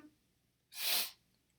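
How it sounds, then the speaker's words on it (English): A single sharp, breathy sneeze bursts out close and loud after a quiet pause, with no talking around it. "Pigs make me sneeze!"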